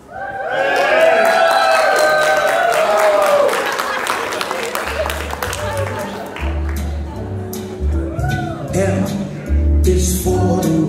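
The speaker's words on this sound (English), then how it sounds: "So please come forward, give a big applause." Wedding guests burst into loud applause and cheering for the couple Mel and Jason, dense clapping that peaks early, then fades into softer clapping under music and voices.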